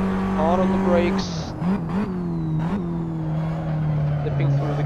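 Tatuus open-wheel race car in the Assetto Corsa sim at Silverstone, its engine note dropping through downshifts under hard braking, with someone talking over the steady engine drone.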